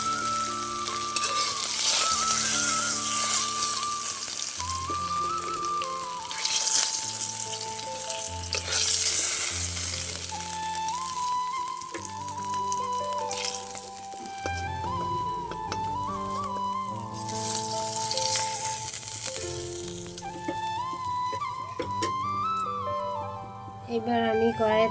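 Fish frying in hot oil in a kadai make a continuous bright sizzle that runs beneath prominent melodic background music.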